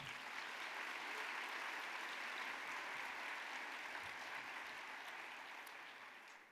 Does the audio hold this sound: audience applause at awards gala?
yes